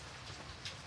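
Steady rain hammering down, a dense even hiss of drops filling the space, fairly faint and with no voices.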